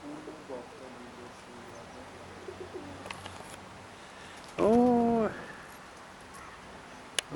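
Wind-blown outdoor noise with a few faint knocks, then a single clear pigeon coo rises out of the background before fading away.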